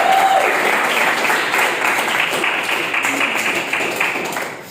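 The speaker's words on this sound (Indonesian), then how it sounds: "tepuk tangan buat kita semua." Steady group applause from university library science students at a class presentation, dense and even, tapering slightly toward the end.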